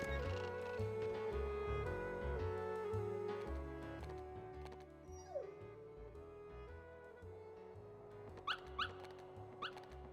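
Dalmatian puppies in the Kingdom Hearts video game yip and whimper over game music, small dog cries standing out faintly amid the melodic background.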